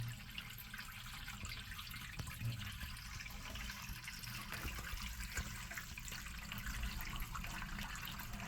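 Plenty of water runs and gushes down a bathtub drain during a leak check, a steady continuous rush that stays fairly faint, with no talking.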